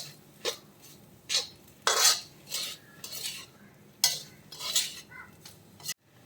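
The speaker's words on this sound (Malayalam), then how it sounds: "നമുക്ക് കുറച്ച് ഉപ്പ് കൂടി ചേർത്ത് കൊടുക്കാം. ഒന്ന് മിക്സ് ചെയ്തെടുക്കാം." Spiced buffalo meat fry is stirred in a pan, a metal spoon scraping and clinking in several distinct bursts over a faint sizzle, with no talking.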